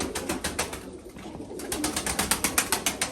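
Pigeons in an enclosure give a steady run of rhythmic flutters and soft coos, close and moderately loud, with no talk.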